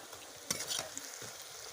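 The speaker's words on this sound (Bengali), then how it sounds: "এবার সবগুলো কোপ্তা আমি উল্টে নেব।" Cauliflower, potato and banana flower koftas turned over in sizzling oil in an iron wok, with a few quick scraping and clinking strokes over a steady close frying hiss.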